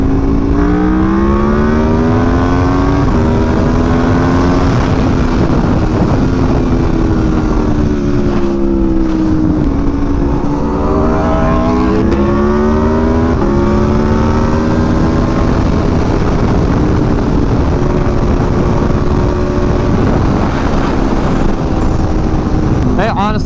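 An Aprilia RSV4 Factory motorcycle is ridden at speed, its engine droning loudly and rising and falling in pitch through gear changes under steady wind noise, with a rider's voice at times.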